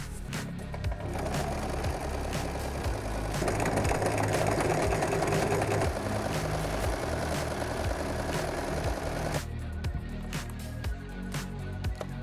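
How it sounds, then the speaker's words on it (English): Close, steady whir of a sewing machine stitching a padded handbag with a 90-14 needle and black thread, running continuously with a faint hum that ends in a quieter tail. "I have a 90-14 needle, black thread, so let's sew."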